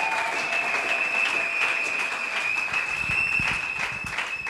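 A church congregation applauding at a Sunday service, steady sustained clapping from a large crowd with a high ringing tone running through it and some scattered louder claps.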